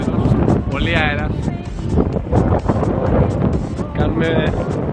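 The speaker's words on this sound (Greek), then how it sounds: "Πολύ αέρας." Strong wind buffets the microphone on a boat tour off Mauritius, a loud steady roar throughout, while voices talk over it.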